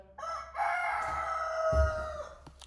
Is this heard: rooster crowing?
yes